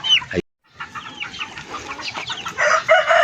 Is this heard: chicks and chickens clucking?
yes